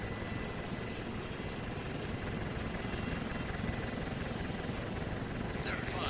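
A helicopter in the military video game Arma, flying over Takistan, gives a steady, continuous rotor and engine drone, loud and unbroken throughout, with no talk over it.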